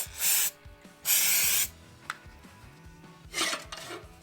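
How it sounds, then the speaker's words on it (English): Lubricant sprayed onto a lawn mower part: two loud, close hissing bursts of aerosol, each about half a second, with a shorter hiss near the end and light handling noise between. "I'm gonna spray some lubricant on here so that this should spin a little easier."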